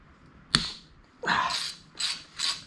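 A ratchet with a Torx bit works on tight bolts of an SRT4 transmission: a sharp snap, then three quick bursts of close, rattling clicks in short strokes, fairly quiet.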